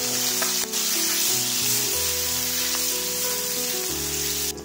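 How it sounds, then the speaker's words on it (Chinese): Pork belly fries in a little oil in a wok, rendering its fat with a bright steady sizzle and crackle, alongside sustained tonal hums and a few sharp clicks from the stove. "锅中下入少许的油，倒入五花腩炒出油脂"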